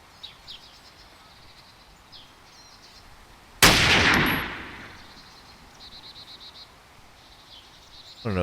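A single loud, sharp gunshot in DayZ echoes and decays over about a second outdoors, with faint birdsong chirping before and after it.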